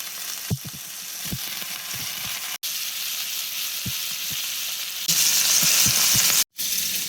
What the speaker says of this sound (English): A nice hot skillet here, cast iron skillet. We're gonna put this chicken in. There's the sizzle.